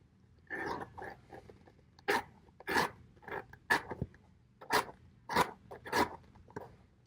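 A knife bevels the edge of stiff, heavy cowhide in a series of about ten short, crisp cutting scrapes at an uneven pace, close and fairly quiet.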